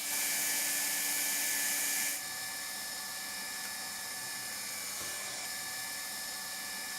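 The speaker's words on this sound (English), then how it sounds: "Heat up the hand-operated hot welding gun, place it on the joint and seal it using the hot welding rod" Hand-operated hot welding gun sealing a noraplan wall-covering joint with hot welding rod at 350 to 400 degrees Celsius, a steady close blowing hiss that drops in level after two seconds and continues evenly.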